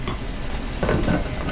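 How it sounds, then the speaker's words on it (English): Steady bubbling and sizzling from meat boiling in a pot on the stove, continuous and fairly loud, growing a little busier partway through; no talking. "Start by boiling the meat."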